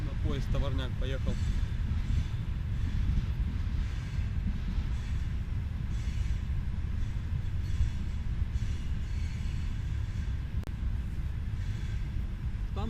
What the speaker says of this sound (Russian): Поезд товарняк поехал.